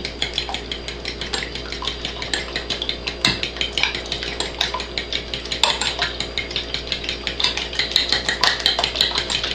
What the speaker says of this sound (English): we're going to go ahead and mix this up first. So go ahead and get that a good stir on there.